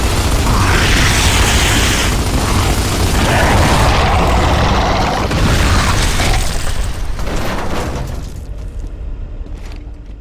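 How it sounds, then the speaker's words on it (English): A loud, sustained roaring blast from a gas-filled flying creature bursting on death in Gears of War 2, dense rumble with debris-like crackle that fades out over the last seconds. "they are filled with lighter than air gas, which might explain why they violently explode upon death"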